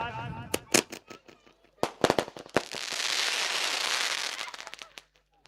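Firecrackers and fireworks go off at the opening of a cricket tournament in Abhanpur. Scattered sharp bangs lead into a dense crackling burst that lasts a couple of seconds, followed by a few last pops.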